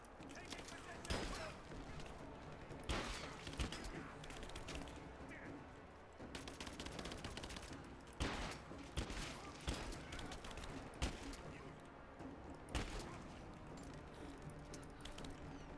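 Gunfire from enemies shooting through walls in Rise of the Tomb Raider crackles in repeated bursts and volleys, with sharp impacts spread across the stretch and voices talking between shots.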